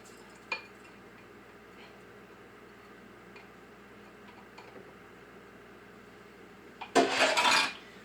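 Rinsed rice poured into a crock pot, a quiet click at the start and a short, loud rattling pour near the end, with no talking.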